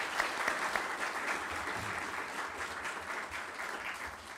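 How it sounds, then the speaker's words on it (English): An audience at an event in Arkansas applauds steadily for several seconds, a dense wash of clapping heard at a moderate distance with no voices over it. "Please give Chairman Chu a round of applause."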